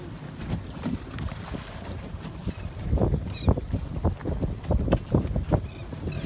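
Fishing boat bump trolling near a sunken ship in rough, windy sea, with gusty wind buffeting the microphone, water slapping the hull and irregular thumps.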